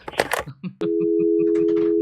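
A red phone is picked up with some clattering handling and button clicks, then a steady dial tone hums continuously while a few faint keypad taps sound over it.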